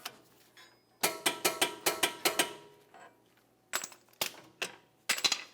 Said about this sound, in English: Got our torque wrench.